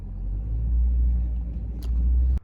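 A junk removal truck drives along with a steady, close, deep engine rumble and cab drone, then a sharp click just before the sound cuts off abruptly.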